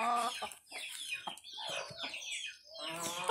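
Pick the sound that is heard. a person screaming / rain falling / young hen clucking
young hen clucking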